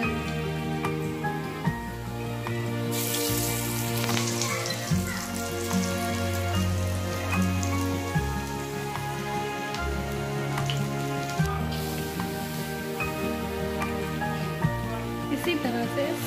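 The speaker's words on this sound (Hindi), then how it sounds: "इसी तरह से सारे कचरी को डीप फ्राई कर लेंगे अच्छा गोल्डन ब्राउन होने तक" Masoor dal kachri deep fries in hot oil, a dense crackling bubbling that runs steadily throughout at moderate loudness, with no talk.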